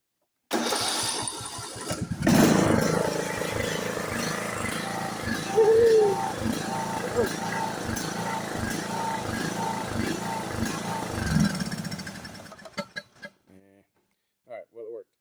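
A farm buggy engine cranks and catches with a hand held over the air intake, then runs at a loud, uneven idle for about ten seconds before cutting out, with a brief clunk near the end; voices talk over it.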